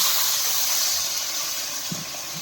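Spice paste frying in a pan for a fish-head and cauliflower curry, with water just added, gives a steady, broadband hiss of sizzling that holds fairly evenly throughout, close and moderately loud, with no talking.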